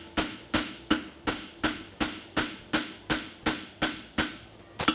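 A blacksmith at a championship forges a French hind horseshoe from steel with steady, evenly spaced hammer blows, about ten sharp ringing strikes ringing out close and alone.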